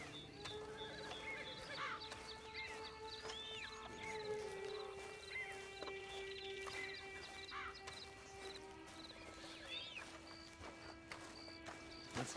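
A horse in Red Dead Online whinnies and snorts amid hoof clops, layered over a steady game soundtrack with no talking.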